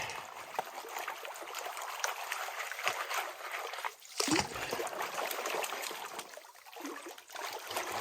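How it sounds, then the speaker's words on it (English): Big heavy rocks and gravel being washed by hand in a gold pan, water swishing and trickling steadily with a brief louder splash midway, close and moderately quiet. "Wash all these big heavy rocks off"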